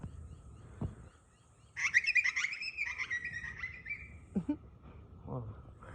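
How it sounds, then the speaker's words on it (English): A bird at dusk in rural Australia gives a loud, rolling, cackling call for a couple of seconds, followed by a few short chirps and scattered soft rustles in a quiet outdoor setting. "I don't know what sort of bird that was"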